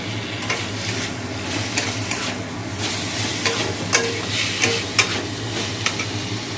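Curry spice paste frying and being stirred in a pan beside fried potato, green banana and pointed gourd, steady sizzle with repeated scraping strokes of a spoon, close and moderately loud, no talking.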